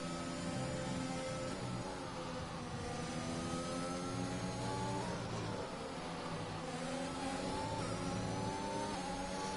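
Aston Martin race car in a racing sim game at Austria, its engine droning steadily and loudly throughout with rising and falling revs and layered harmonic whine, no voices.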